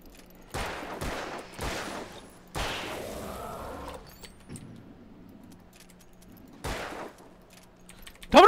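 Scattered gunfire comes from the game Alan Wake: several sharp, fairly quiet shots in an irregular rhythm with brief gaps between them, plus one longer rattling burst, and no talk over them.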